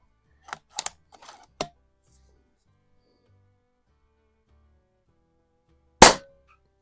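A single sharp crack from a Pinty Striker .25 caliber bullpup airgun during a chronograph test, loud and isolated after a few quiet clicks and taps of handling.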